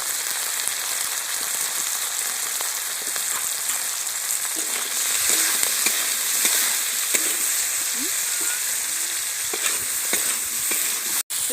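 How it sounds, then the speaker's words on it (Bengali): Prawns fry lightly in a pan for a village-style prawn dish, giving a steady, close sizzle with scattered pops and occasional stirring scrapes, and no talking over it. "এবার আমি চিংড়িটা হালকা করে ভেজে নেব।"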